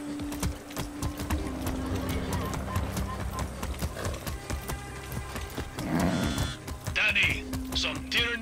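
Hooves of a horse in the Far Cry 6 video game clip-clop in a steady trotting rhythm under game music and effects, with a voice talking over it.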